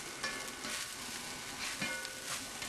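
Fried rice with scrambled egg is stirred in a hot pan, giving a soft, steady sizzle broken by scraping stir strokes, fairly quiet and with no voices.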